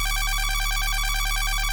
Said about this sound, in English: FX Cell Phone.